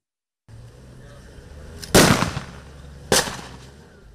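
Gunshots during a military exercise at sea off Sèmè-Podji on 27 June 2023: two sharp loud reports about a second apart over a low background rumble, no voices in between.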